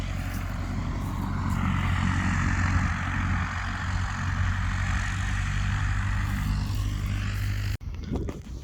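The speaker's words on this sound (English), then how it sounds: "There's the plane just landed." A propeller plane that has just landed at a WW2 RAF airfield drones steadily with a low engine rumble and broad whooshing noise, heard from nearby for several seconds before cutting off abruptly.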